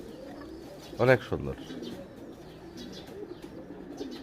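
Pigeons at a rural village home give a short burst of cooing, one close call standing out before softer bird chirps, while a person speaks quietly nearby.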